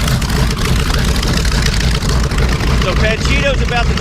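The WWII aircraft Panchito idles its engine before takeoff at a 2018 airshow in Reading, PA, a loud, steady, deep rumbling drone that holds close and constant throughout.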